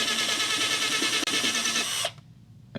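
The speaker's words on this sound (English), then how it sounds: "So we're going to start taking out the screws that hold this main panel in" Power drill unscrewing fasteners from the main panel of a Pride mobility scooter: a loud, steady high whine for about two seconds with a brief dip midway, then it stops abruptly, leaving faint handling sounds.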